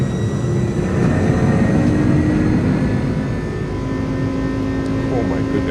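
Jet engines of an iniBuilds A300 roar steadily at takeoff power in Microsoft Flight Simulator, a loud, continuous broadband rumble with a faint whine that holds level throughout.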